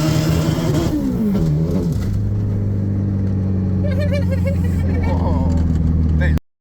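A Corolla fitted with a Hayabusa motorcycle engine launching in a drag race, its loud engine revving and climbing through gears, a steady high drone up close, with people talking over it.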